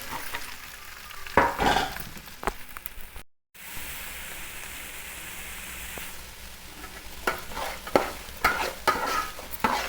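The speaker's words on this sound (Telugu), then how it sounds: "ఉప్పేసి బాగా ఫ్రై చేస్తున్నానండి" Onions fry with salt in a pan for egg onion curry, giving a steady close sizzle broken by scraping stirs, with a brief dropout partway through.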